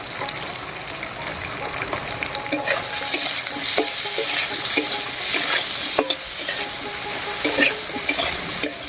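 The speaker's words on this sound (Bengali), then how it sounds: "বেগুনগুলো ভাজা হয়ে গেছে, নামিয়ে নিচ্ছি।" Eggplant slices fry in oil in a kadai with salt and turmeric, a dense, continuous sizzle and crackle with occasional stirring clatter, close and steady throughout.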